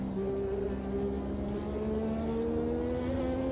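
1986 Formula One turbo car in Automobilista 2, engine droning steadily and rising in pitch as it accelerates, a continuous close tone with a faint turbo whine and no talk.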